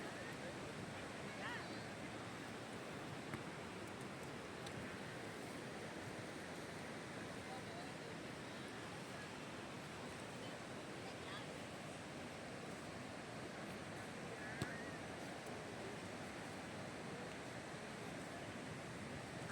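Ocean surf washes steadily onto Mỹ Khê beach in Da Nang at night, a continuous soft roar of waves with light wind noise and no distinct breaks.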